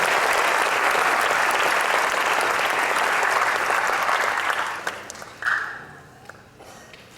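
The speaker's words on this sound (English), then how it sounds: "Let's give a round of applause for your families" A graduation audience applauds the families, with loud, dense clapping that holds steady and then tapers off, leaving a few scattered claps and a quieter room near the end.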